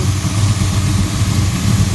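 An aluminum-block engine with an Edelbrock Pro-Flow 4 EFI in a DCI Motorsports RA5 idles after an ice-cold start, a loud, steady, close rumble with an even low pulse and no other sounds.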